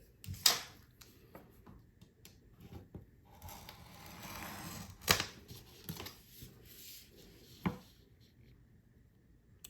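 Glass pieces being scored and snapped into triangles for fused glass: sharp isolated clicks and cracks, a few louder snaps spaced seconds apart, with soft scraping in between, quiet and close.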